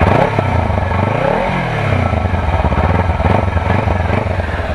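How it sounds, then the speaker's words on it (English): A motorcycle exhaust burbling at low revs, recorded close from behind, with a rough, lumpy throb and a brief rev blip early on, loud and continuous. "Check out the exhaust. It actually sounds really good."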